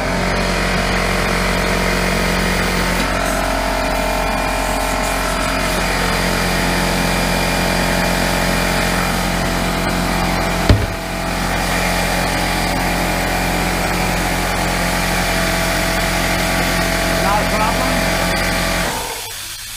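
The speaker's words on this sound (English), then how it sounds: "Air compressor." Air compressor powered by a Dewalt power station, running with a steady loud droning motor and pump hum throughout, a brief knock midway, then cutting off at the end.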